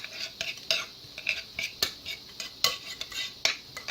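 A utensil stirs ingredients together in a bowl for a New Orleans-style po' boy sandwich, with quick scraping clinks repeating in an irregular rhythm, close and clear with no talking.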